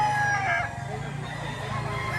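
A rooster at a poultry market in Lipa, Batangas gives one loud, close crow that fades into a lower tail, with a voice faintly underneath.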